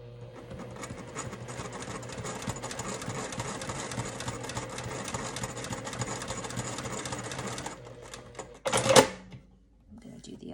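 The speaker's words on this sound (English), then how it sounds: "I'm going to top stitch 1/8 of an inch in on both sides" A sewing machine runs steadily for about eight seconds, top stitching fabric tabs for a small charm bag, then stops with a short clunk and a brief rustle.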